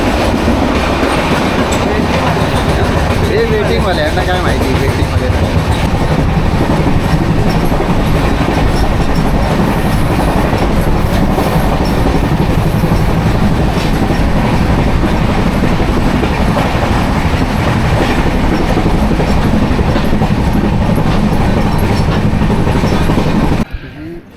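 A Janshatabdi express train runs along the rails between Thane and Kudal, a loud, unbroken rumble with clattering wheels heard from on board for the whole stretch, fading out at the very end.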